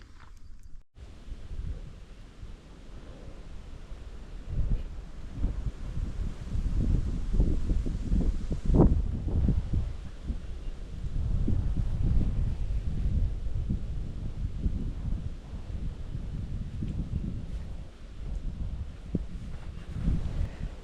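Wind buffets the microphone at a rocky hilltop lookout, gusting in uneven low rumbles that swell and ease over about twenty seconds, with no talk.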